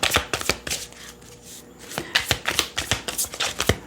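A deck of cards is shuffled by hand in quick overhand riffles, a series of close, crisp slapping bursts with a short pause midway and no talking.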